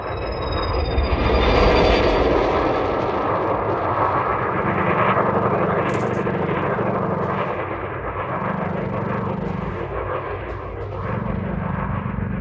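Spaceship engines in the game Elite Dangerous roar and whoosh during pitch, yaw and roll maneuvers, a loud continuous jet-like rumble that swells and eases with faint tonal hums beneath.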